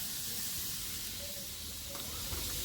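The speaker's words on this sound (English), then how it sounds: "we're frying our ham" Faint, steady sizzling hiss of ham frying in a pan, continuous and close, with no talking.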